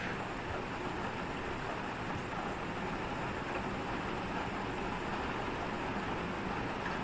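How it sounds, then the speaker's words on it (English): Heavy rain pours down outside, a constant broadband roar with no breaks that stays loud and even throughout, with no voices and only a hint of distant rumble. "it's raining quite heavily now."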